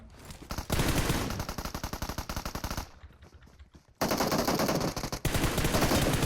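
Loud automatic gunfire in the mobile battle-royale game PUBG Mobile, rapid sustained bursts with a brief quieter lull before the shooting resumes at full intensity.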